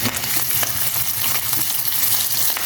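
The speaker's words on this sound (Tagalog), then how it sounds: "Kaya lagyan na natin yung bawang. Talsik-talsik na siya guys." Garlic and beef frying in rendered pork fat, a loud, steady sizzle with crackling pops and spatters and the occasional scrape of stirring, no voices.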